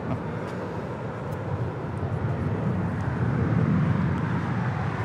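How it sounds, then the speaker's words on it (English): An Air France Airbus A350-900 lands at LAX on runway 25 left, a broad distant jet rumble that grows steadily louder toward the end, with no talk over it. "Air France Flight 70 coming in from Paris on an A350-900 landing here on 25 left on the south side."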